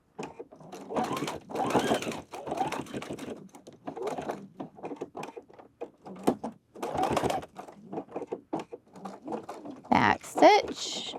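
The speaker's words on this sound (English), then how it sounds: "Now I'm just going to stitch down the other side." A sewing machine stitches down the side of a zipper jacket in short, uneven bursts of rapid clatter, close by, separated by brief pauses.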